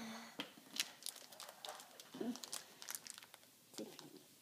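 Crinkling and tearing of plastic packaging in short, uneven bursts, close by, with a voice briefly heard.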